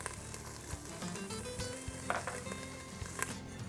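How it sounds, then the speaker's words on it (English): Bacon rendering its fat in a pan for cheddar cheese soup gives a steady, close sizzle and crackle, with a few sharper pops and stirring scrapes along the way and no voices. "Want to go ahead and render down this bacon a little bit."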